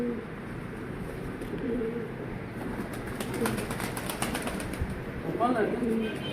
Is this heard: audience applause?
no